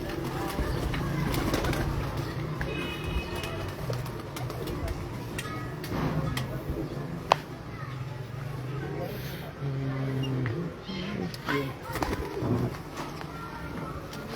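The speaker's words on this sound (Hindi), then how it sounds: "ये जी लाहौर की बहादुर चैम्पियन कबूतरी है जी" A champion pigeon from Lahore coos in soft, low repeated calls on a rooftop, with someone talking over it and faint traffic in the background.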